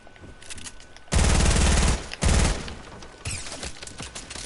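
Gunfire in Fortnite duo play: a loud, sustained burst of rapid automatic shots, a short pause, then another burst, followed by quieter scattered shots and game noise.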